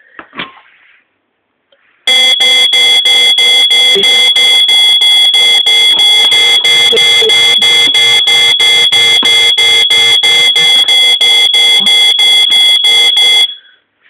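A power-cut detector alarm goes off in a house, sounding a loud, steady high-pitched electronic tone pulsed in rapid regular beeps for about eleven seconds before stopping abruptly.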